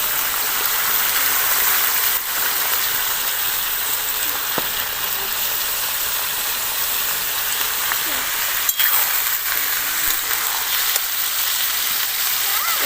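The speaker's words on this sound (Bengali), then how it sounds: "চিকেনটা এখানে আমি খানিকক্ষণ তেলের সাথে একটু কষিয়ে নিয়েছি।" Chicken and chopped onion frying in oil, a loud, continuous hiss and sizzle close to the pan, with a few faint clicks of stirring.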